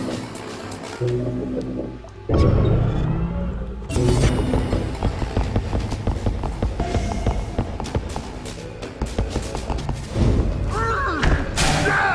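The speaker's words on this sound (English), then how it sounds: "I'm gonna shoot this camera." A security camera being shot in Invisible Inc: heavy thuds and sharp impacts ring out, one big hit after a brief lull, followed by a busy run of clicks, knocks and game effects.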